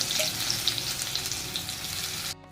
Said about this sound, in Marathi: आता ही लसूण ठेचून घेतलेला आहे आपण बारीक असा तो पण टाकायचा आपल्याला याच्यामध्ये